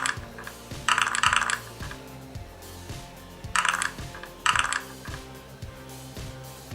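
Dice rolling sound effect from a dice app on a Samsung Galaxy Gear smartwatch, three bright rattling bursts of clattering dice over a low steady electronic tone.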